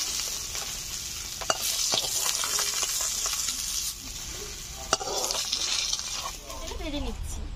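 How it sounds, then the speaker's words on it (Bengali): Potatoes fry in hot oil in a pan and are stirred, giving a continuous close sizzle broken by occasional scraping and clinks of the utensil, while a voice speaks briefly over the cooking. "ভেজে নিচ্ছি"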